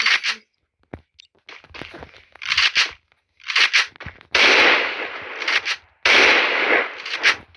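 Several loud, sharp gunshot blasts from a pump shotgun in a shooter video game, fired in separate bursts with short silent gaps between them.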